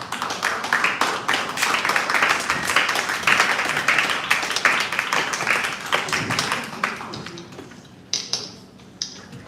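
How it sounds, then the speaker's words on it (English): A school speech contest audience gives a warm round of applause: dense, steady clapping across the whole span, thinning near the end into a few scattered claps and faint background sounds. "Please give her a warm round of applause"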